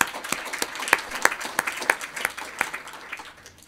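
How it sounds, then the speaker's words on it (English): Audience at an EEI gathering clapping, with distinct individual claps in an uneven rhythm standing out over a light spread of applause that tapers off toward the end. "And I think that deserves some applause."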